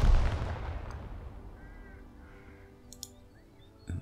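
A tank's main gun fires in the video game Second Front, a heavy low boom up front that rolls off into a long fading rumble, followed by faint clicks and a second sharp report near the end.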